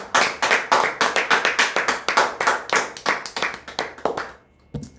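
A church congregation claps their hands together in a fast, steady rhythm, dozens of sharp overlapping claps filling the room before stopping abruptly near the end, with no talking.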